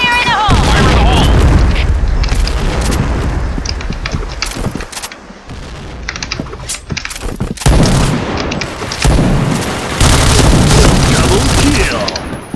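Grenade explosions and heavy gunfire in a shooter video game, with loud booming blasts and rapid firing layered densely throughout, while a voice shouts over the chaos.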